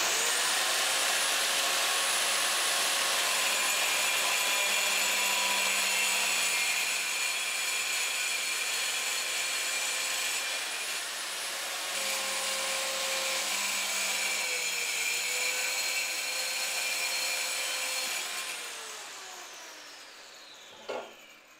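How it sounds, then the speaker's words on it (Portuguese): A power tool cuts porcelain tile for a window opening, a loud, steady high whine with a grinding edge that holds for about eighteen seconds before winding down, with no talking. "Agora eu vou começar os cortes ali para a janela."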